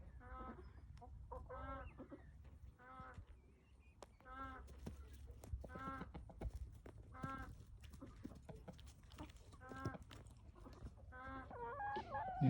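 Partridge Brahma chickens cluck and call in a steady run of short, repeated notes close by, with a few louder squawks near the end and no talk over them.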